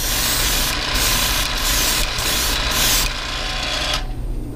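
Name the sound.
airbrush spraying paint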